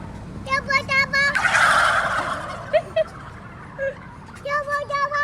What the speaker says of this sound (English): This is the infamous turkey.